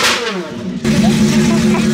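Gordon Murray T50 supercar engine revving loud and close to about 6,500 RPM, a sharp mid-pitched howl that drops back briefly and then surges again, holding steady under excited voices.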